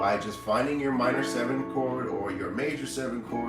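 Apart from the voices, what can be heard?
No everyday noises stand out.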